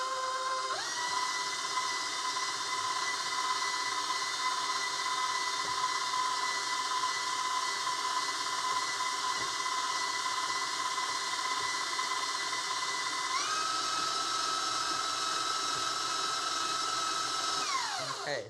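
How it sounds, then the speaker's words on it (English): Food processor whirring steadily as it blends cookie dough for bacon breakfast cookies, a continuous motor drone that shifts pitch partway through before spinning down at the end. "So let me scrape it down and give it one more whirl here."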